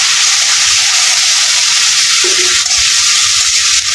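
Spice pastes of turmeric, cumin, onion and lentil with salt frying in a pan, giving a steady, close, even sizzle with no talk over it.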